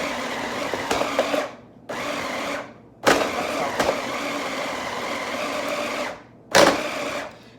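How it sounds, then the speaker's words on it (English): A small food processor pulses salsa in four loud whirring bursts with short silent gaps between them, each burst running steady before cutting off, and no talking over it. "I'm gonna put it on my little machine. Just pulse it out."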